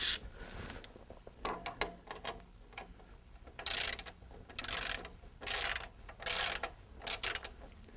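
A ratchet tightens the left bearing cup on a LeMond RevMaster Pro exercise bike, giving quiet scattered clicks and then several short, bright bursts of rapid ratcheting in quick succession, close by.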